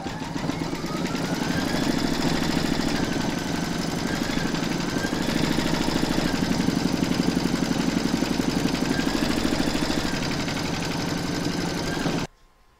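Embroidery machine stitching a round in the hoop, a steady rapid mechanical chatter and hum at a constant rate, close and continuous until it stops abruptly at the end.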